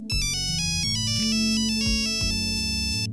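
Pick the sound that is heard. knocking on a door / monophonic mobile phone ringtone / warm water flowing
monophonic mobile phone ringtone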